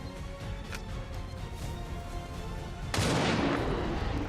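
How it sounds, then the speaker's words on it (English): A single gunshot taking out an enemy in the video game XCOM 2, a sudden loud blast near the end that breaks a quiet ambient bed and rings into a sustained rumble. "we're going to try and take him out with a shot"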